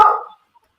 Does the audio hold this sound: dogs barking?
yes